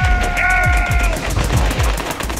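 Rapid gunfire from the mobile battle royale game Battlelands Royale, a quick run of sharp, loud shots in steady rhythm with a high tonal game sound over the first half.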